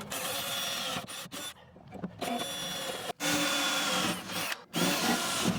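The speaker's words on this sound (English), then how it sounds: "when you're drilling in steel" A power drill bores into steel with cutting fluid while a water tank is fitted to a tub ute, a loud whining grind broken by several brief stops and restarts.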